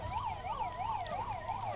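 An ambulance siren wails steadily during a mock emergency drill, its rising and falling tone cycling evenly about every third of a second, moderately distant under a low engine and road rumble.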